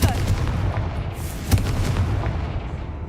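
Confringo blasting spell cast in Hogwarts Legacy, heard as a booming explosive burst at the start and another sharp blast partway through, with a rumbling roar filling the gaps.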